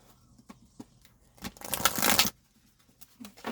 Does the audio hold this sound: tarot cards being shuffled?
yes